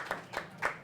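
A lone fan at a darts match claps three times in quick succession, soft, distant hand claps over a quiet background.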